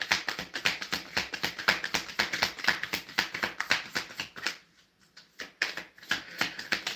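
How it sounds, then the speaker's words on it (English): Oracle cards are shuffled by hand in quick rhythmic bursts of soft riffling taps, with a brief pause partway through before the shuffling starts again. "while I'm trying to shuffle and see what comes out from the oracle cards"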